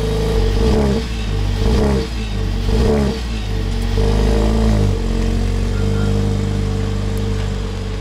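A Mercedes A45 AMG with its turbocharged engine revs and accelerates, loud and close, with repeated throttle blips rising and falling before settling into a sustained pull.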